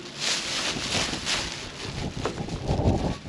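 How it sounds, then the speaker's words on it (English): Strong outdoor wind buffets and roars across the microphone in steady gusts near a frozen area with dinosaur tracks, a broad rushing noise with faint rustling and no speech. "Man, this wind is really messing me up here."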